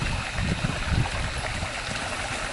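A creek on a homestead with a trout pond runs along a fence and flows underneath it, giving a continuous rushing, burbling water sound that stays steady and fairly loud throughout, with no one speaking.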